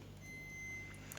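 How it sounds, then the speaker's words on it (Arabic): Alarm on a Kiriazi seven-drawer deep freezer, warning that the door was left open: one sustained electronic beep tone, fairly faint, over a low hum. "الانذار اللي الفريزر عامله لانه اتفتح فتره طويله مثلا وبينبهك ان هو مفتوح"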